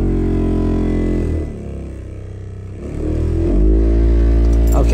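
Rat-damaged blower motor in a Chrysler Sebring running loudly with a harsh, buzzing whir that dips briefly, then swells back up and grows louder, close and continuous.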